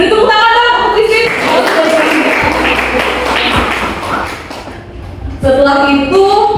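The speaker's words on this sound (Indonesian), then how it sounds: "beri tepuk tangan dong untuk Christine" Classroom applause for a student: a burst of many hands clapping in a dense, steady patter for a few seconds between stretches of talk, moderately loud and close.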